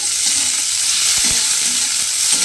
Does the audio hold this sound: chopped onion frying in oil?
yes